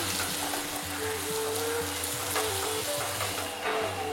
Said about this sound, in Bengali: এবার কড়াতে আলু মাখাটা দিন ও ভালো করে তেল মশলার সঙ্গে নাড়াচাড়া করে মিক্স করে নিন।